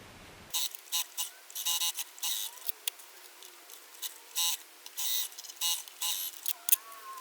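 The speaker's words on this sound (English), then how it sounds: "So now we just need to sew our 3 rows together." A sewing machine stitching quilt block rows together, running in short repeated bursts with pauses between them, quiet and close, with no talking.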